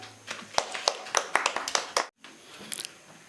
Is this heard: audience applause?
yes